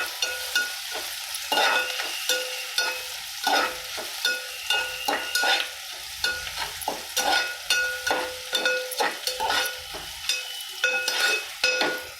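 Okra frying in a pan with a steady sizzle, broken by repeated scraping strokes of a spatula that give a clattering, rhythmic stir throughout. No voices.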